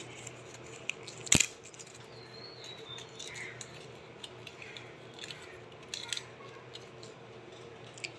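Dry bay leaves torn by hand over a pot of hot water with cardamom, cinnamon and cloves for payesh: one sharp, crisp snap followed by a few faint crackles in a quiet kitchen.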